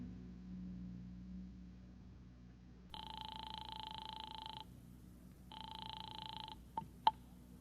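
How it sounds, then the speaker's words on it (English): Radio drama effect of a phone call placed from a phone booth: two steady telephone ring tones sound in a quiet room, followed by a couple of sharp clicks like a receiver being lifted. "then I beat it to the nearest phone booth and called Howard Wilcox's home."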